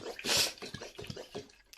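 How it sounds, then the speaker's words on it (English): Water is given to crested geckos, heard as a brief spray-like hiss followed by a few soft, close drips and splashes, quiet and intimate. "I like to give the cresties some water"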